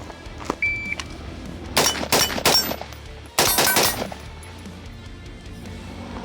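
Shots from a Daniel Defense DDM4V7 rifle ring out on a range, several sharp cracks arriving in quick bursts with short pauses between, loud and close, with no talk over them.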